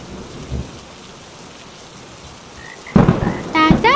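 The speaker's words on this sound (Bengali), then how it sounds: "এই যা, বৃষ্টি তো শুরু হয়ে গেল" Heavy rain hisses steadily through a cartoon scene, a thunder rumble rolling in near the end, and voices begin speaking over the downpour in the last second.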